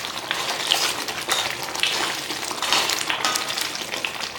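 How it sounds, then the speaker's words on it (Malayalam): Chicken tikka bubbles in a pan over a medium flame, giving a steady, busy hiss and sizzle with crackling pops that continues without pause. "അപ്പോൾ നന്നായിട്ട് തിളച്ച് വന്നിട്ടുണ്ട്."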